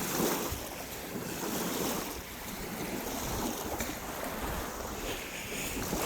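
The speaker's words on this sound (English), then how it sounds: "every time the waves come up, it hits there and it washes more out" Ocean waves wash up steadily on a beach in a broad, continuous roar mixed with wind buffeting the microphone, with no speech.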